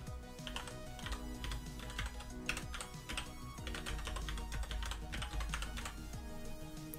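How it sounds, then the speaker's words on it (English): Typing on a computer keyboard to enter an email address, a steady run of close, crisp key clicks with no talking. "we go to this website here and pop in our email address"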